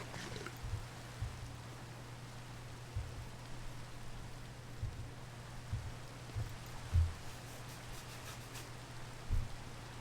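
Rain falling in the Minecraft modpack Farming Valley, a faint, steady hiss of rainfall with scattered soft drop taps over a low constant hum, no voices.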